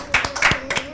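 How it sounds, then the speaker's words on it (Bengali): A classroom of children clapping hands for a classmate, a short burst of quick uneven claps close by, mixed with light chatter. "আমরা সবাই রিদওয়ানের জন্য একটা"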